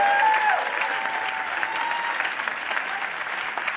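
A live comedy audience gives a sustained round of applause for a performer, dense and steady clapping throughout, with a brief voice near the start.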